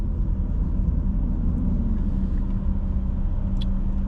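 A Toyota Supra passes on the road, heard as a steady low rumble of car engine and tyre noise from inside a moving vehicle, with a slight swell as it goes by.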